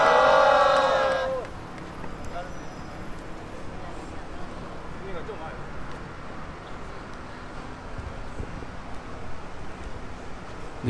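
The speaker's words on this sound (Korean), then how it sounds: "큰 박수로 맞아주시기 바랍니다." A crowd at a citizens' rally outside the US Embassy bursts into loud applause and cheering for a 234th weekly protest gathering, cutting off after about a second and leaving a low outdoor murmur.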